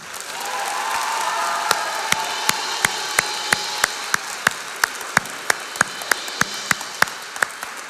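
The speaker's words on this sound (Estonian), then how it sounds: "Teeme nüüd neile kõigile 5 veel üks võimas aplaus." A school-event crowd bursts into a broad wash of applause that thins into crisp, evenly spaced rhythmic claps, sharp and close, repeating steadily to the end.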